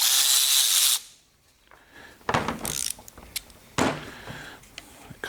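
A Milwaukee power tool whirs briefly at the start before cutting off, followed by scattered clunks and rattles of handling and setting parts down, with a louder knock near the end.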